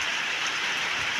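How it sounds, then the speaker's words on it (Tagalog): Steady rain falls in a dense, even hiss with no breaks, fairly loud and close, with no talking. "Inabot na naman po ng ulan."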